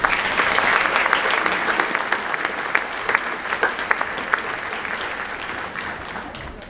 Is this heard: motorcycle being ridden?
no